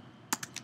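Three quick keystrokes sound close by on a computer keyboard as a web address is typed, each one a sharp, distinct click in a quiet room.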